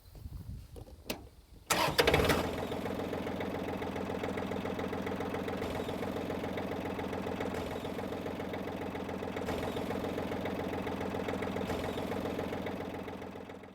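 A tractor engine on a farm where pigs are moved, starting after a few brief clunks and then running steadily with a low, even rumble that stays constant to the end, with no talking.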